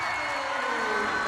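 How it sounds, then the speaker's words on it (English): A volleyball arena crowd roars and applauds after a line shot in a Brazil vs. Italy match, a dense sustained cheer with a shrill edge, under a commentator's voice. "the crowd jumping for joy"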